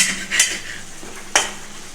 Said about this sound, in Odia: ଓହୋ, ମସଲା କଷା ହେଉଛି